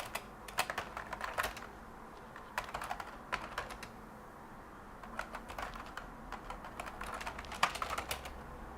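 Quiet typing on a computer keyboard, scattered quick keystrokes and short bursts of clicks over a low room hum, with no talking.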